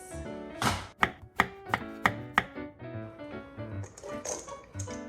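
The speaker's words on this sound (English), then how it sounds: "I'm gonna chop half a cup of dates." Dates being chopped with a knife on a cutting board, a quick series of sharp, close taps in an uneven rhythm, with softer taps toward the end.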